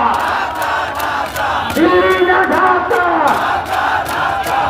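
A protest crowd at Shahbag chants political slogans in unison, loud and close, with rhythmic shouted phrases repeating over a dense, continuous crowd roar.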